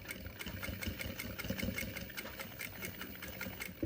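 A sewing machine stitches a zippered fabric wallet in a quick, steady mechanical rhythm, close and moderately loud, running without pause and with no talk.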